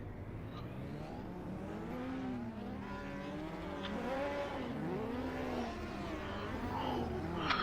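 Historic race cars from the 1978 DRM Norisring Geldrennen field pull away on the formation lap, several engines droning and rising in pitch as they accelerate, steady and moderately distant.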